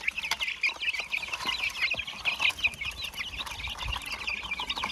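Chickens cluck steadily in a busy chorus, with a rooster among them, close and continuous over low rustling.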